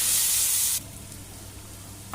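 Onion sizzles as it is stirred into hot tempering oil in a pan while Bengali-style prawn curry with ridge gourd is cooked. A loud crackle runs for the first part, then falls to a quieter low sizzle with a short scrape at the end.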